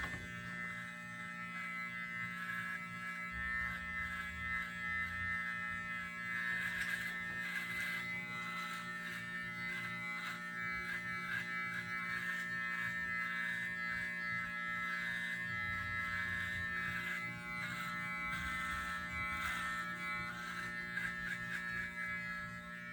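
Electric hair clippers buzz steadily and faintly close by during a standard haircut, a continuous droning hum with no talking.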